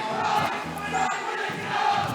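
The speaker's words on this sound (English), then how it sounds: "Now that We Like Ike chants come out" Tournament crowd at a Super Smash Bros. match chanting "We Like Ike" in a rhythmic group chorus, loud and steady across the whole stretch, with no clear speech over it.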